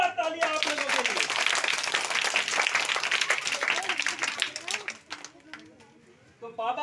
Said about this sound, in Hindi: वेरी गुड, जोरदार तालियां आप लोगों के लिए।